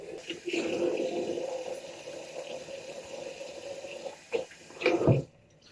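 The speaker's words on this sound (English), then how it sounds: "Let's get some water on my face and we'll begin." Cold water splashed onto a face before a shave with a RazoRock German 37 slant razor, a continuous running-water wash with a few louder close splashes near the end.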